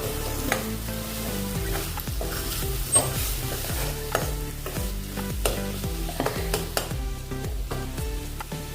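Spatula stirring grated coconut into sizzling methi matar sabzi in a pan, making steady rhythmic scraping strokes over a continuous frying hiss, close and clear, with no talking.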